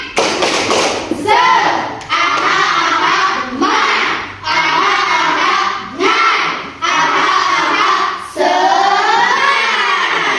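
A classroom of students performs a rhythmic group clapping routine, bursts of loud clapping alternating with chanted shouts in repeating phrases, close and energetic.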